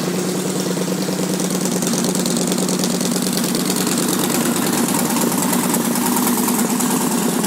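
A 2011 Victory Vegas motorcycle with a fuel-injected 106 cubic inch V-twin and Power Commander, running loud and close at a steady idle, a rapid uneven throb throughout with no talking.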